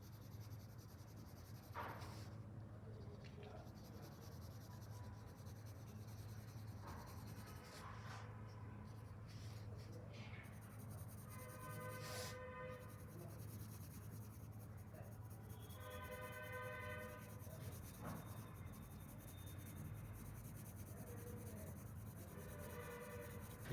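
Pencil shading on paper while drawing a portrait, a soft continuous scratchy rubbing under a steady background hum, faint and close, with no talk.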